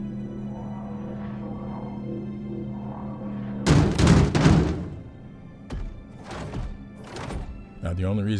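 A tractored box bangs into the corner of a ship in the video game ARGO ATLS, giving a few loud, close thuds and knocks in quick succession after a steady low hum.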